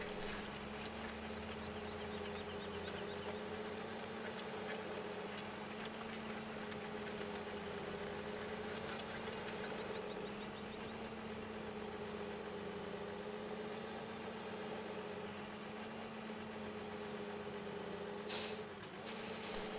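A tractor engine idles in the Farming Simulator 15 video game, a steady low droning hum with a constant tone that holds evenly throughout, with a short hiss near the end.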